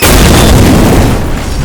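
A loud shoulder-fired weapon discharges in one heavy booming blast that fills the whole moment and rolls off slowly, with no voices.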